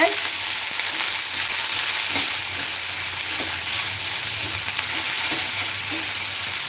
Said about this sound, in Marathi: आता आपण कांद्यांना असे पलटवून घेऊ पहा किती पटक्यात कांदे ब्राऊन कलरचे होत आहे